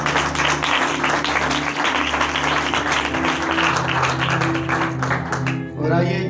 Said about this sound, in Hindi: आइए जोरदार तालियां खुदा यीशु के लिए।